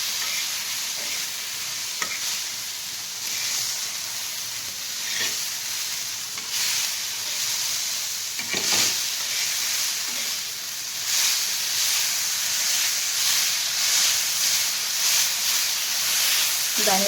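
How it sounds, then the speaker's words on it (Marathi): Peanuts roast and get stirred in a pan for a chutney made from mung beans, giving a steady dry hiss and sizzle with scraping stir strokes that come back again and again, close and fairly loud. "दाणे भाजून घेऊया आपण।"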